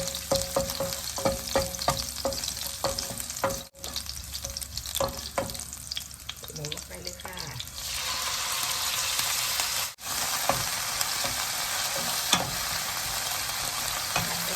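Pork stir-fried in a pan for a pork and broccoli oyster sauce dish, a loud continuous close sizzle with repeated clinking strokes of a spatula against the pan, then a hotter, fuller hiss in the later half, and no talking.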